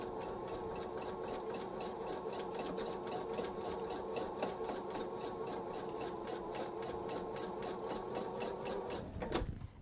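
A sewing machine runs a continuous seam from the edge of the fabric for a bench pillow, its rapid needle ticking steady and close until it stops abruptly near the end.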